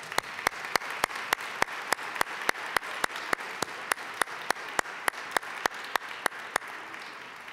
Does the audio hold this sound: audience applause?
yes